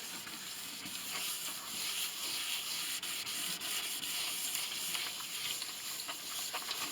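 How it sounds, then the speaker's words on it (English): Hand sanding a five-string cello with 1500-grit graphite wet/dry sandpaper: a steady, close, continuous hissing rub for the full length, loud and even with no talk. "This is the 1500. Graphite wet dry sandpaper."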